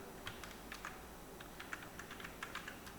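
Soft, quick keystrokes tap on a computer keyboard in an uneven run of a dozen or so clicks, close and quiet, with no other sound.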